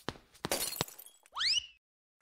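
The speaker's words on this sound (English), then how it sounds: "And I destroyed the glass." Glass shattering in the local versus game Duck Game: sharp thuds and crashes followed by a bright, ringing break with tinkling shards, loud and close, ending in silence.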